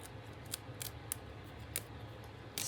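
Scissors make several crisp, separate snips through a brown paper bag, close and fairly quiet, with no talking over them.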